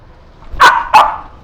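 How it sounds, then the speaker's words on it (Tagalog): Two sharp dog barks in quick succession at close range, about a third of a second apart, from dogs quarrelling at an apron pick-up location, with a faint background hum before and after. "Nagkagalit yung aso."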